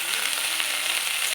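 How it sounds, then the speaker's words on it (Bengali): Broccoli fries in oil in a pan, producing a bright, even sizzle heard up close for a short stretch, then cutting off abruptly; no voices. "ব্রোকলিটা ভাজা হয়ে গেল"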